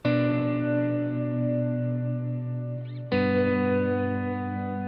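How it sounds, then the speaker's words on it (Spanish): Electric guitar chord through a Line 6 POD HD500X with spacious ambient reverb, struck once, ringing out long, then restruck loudly about three seconds in, with no talking. "Así suena la reverb con un acorde."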